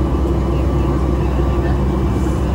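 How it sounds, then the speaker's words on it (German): Cabin noise fills a Boeing 737 MAX 8-200 airliner cruising on a calm flight to Mallorca. It is a loud, steady, low roar that continues unchanged throughout. "Das ist eine Boeing 737 MAX 8-200"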